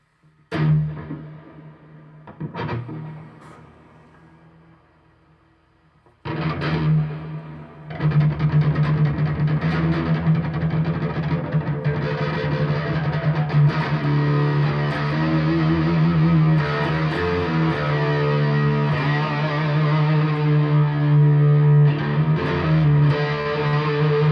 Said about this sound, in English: Oh yeah, there's all the reverb too, right?